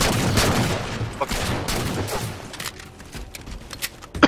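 Rapid gunfire from a Halo 4 2v2 match on the Haven map, loud bursts of shots crackling in quick succession, without speech.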